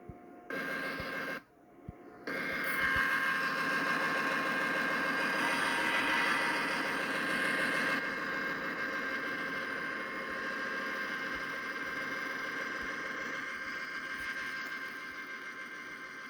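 Diesel train engine in a train simulation game, its steady droning rumble running continuously at moderate level with a brief drop near the start, while a damaged train limps toward the yard.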